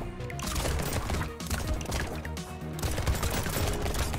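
Rapid SMG gunfire from the video game Brotato, a dense continuous stream of shots layered over busy game music and effects, loud and steady throughout with no talking.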